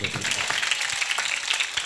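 Congregation at a church gathering clapping together, a dense steady patter of many hands filling the space at even loudness, with some voices mixed in.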